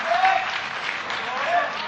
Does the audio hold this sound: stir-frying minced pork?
no